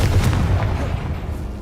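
A Confringo fire spell blast explodes in the game Hogwarts Legacy, a loud, close booming burst with heavy low rumble and a couple of sharp pops that roll on and fade gradually.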